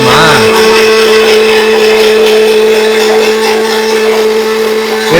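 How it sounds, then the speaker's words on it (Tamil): Mixer grinder steadily grinding soaked flattened rice (aval) into a fine batter, a loud continuous motor whine with a high pitched hum that holds evenly for the whole stretch. "நைஸாக அரைக்கணுமா?"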